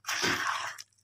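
Bakwan batter with dried shrimp stirred in a bowl, a single wet squelching, slapping sweep lasting most of a second before stopping, close and clear.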